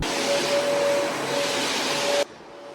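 A vacuum cleaner runs loud and steady with a thin whine during end-of-construction cleaning of a house, then cuts out abruptly near the end, leaving a quieter hum.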